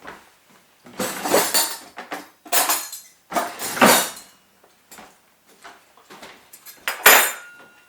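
A knife and fork scrape and clink against a dish holding baked cauliflower au gratin, in several bursts of bright metallic clatter close by, separated by brief pauses, ending with a sharper clink.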